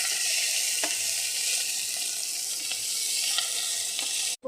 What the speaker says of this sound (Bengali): গ্রেট করা আদা দিয়ে দেবো, ভালো মতন ভেজে নেবো বন্ধুরা।